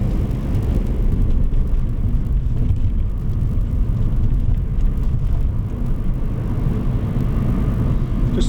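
A car rolls along in gear during a driving lesson, heard from inside as a steady, low engine and road rumble with no talk.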